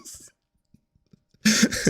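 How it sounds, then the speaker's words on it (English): A short cough at the start, then a pause with faint sounds, followed by a louder burst of coughing up close. "Ill, as you can tell from all the coughing."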